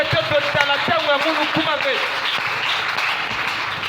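A congregation in church applauds the Lord with steady, dense clapping and voices calling out, the crowd noise continuous and fairly close throughout.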